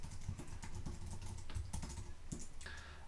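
Quick, close, fairly loud typing on a computer keyboard enters a test username, a rapid run of light key clicks and taps with no talking.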